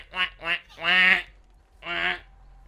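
A voice imitates a duck, giving four nasal quacks close to the mic: two short ones, a longer drawn-out quack, then after a pause a final quack.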